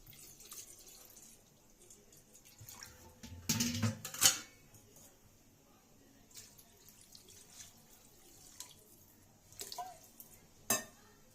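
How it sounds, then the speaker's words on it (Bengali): In a home kitchen, water is poured into a cooking curry, producing soft splashing bursts with faint stirring and clinking of pots at a distance, separated by quieter background noise. "তরকারিতে আমি জল ঢেলে দিয়েছি"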